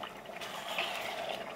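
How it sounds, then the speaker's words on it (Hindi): Water poured into a pot of haleem meat and onions, a steady close rushing pour that lasts throughout without any voices. "और अब इसके अंदर हम पानी ऐड करेंगे"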